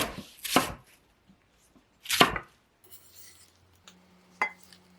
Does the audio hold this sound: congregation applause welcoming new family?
no